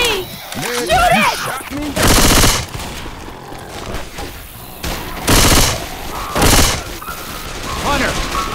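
Gunfire in the video game Left 4 Dead 2 bursts out in short, loud volleys among other in-game noise, with voices speaking near the start.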